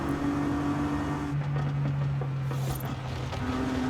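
A Bentley's 6-liter W12 engine in Forza Horizon 5 revs and holds steady, droning tones that shift pitch midway, loud and continuous with no talking.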